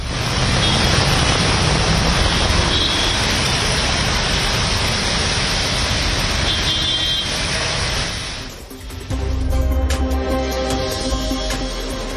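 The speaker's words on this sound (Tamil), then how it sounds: "சென்னை நகர் மற்றும் புறநகரில் பல்வேறு இடங்களில் கனமழை." Heavy rain pours over city and suburban streets in Chennai, a dense loud hiss mixed with passing road traffic, shifting abruptly to a different street scene partway through.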